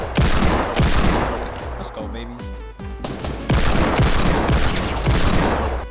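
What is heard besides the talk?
gunshots in the video game Fortnite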